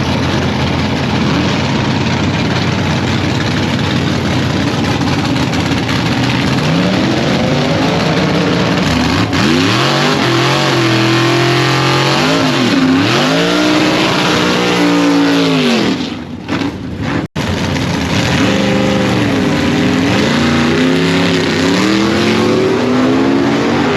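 A loud drag race car idles with a heavy low rumble, then revs repeatedly in rising and falling sweeps as it pulls away on a test drive, cutting off briefly near the end.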